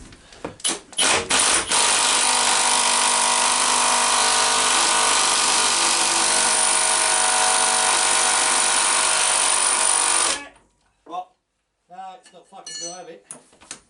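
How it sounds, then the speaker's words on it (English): An air impact gun hammers on a bolt of a London Transport Routemaster bus gearbox, a loud sustained rattling whir lasting several seconds, then metallic clanks and voices as it stops. "put the spanner on, and I'm going to gun the bolt off"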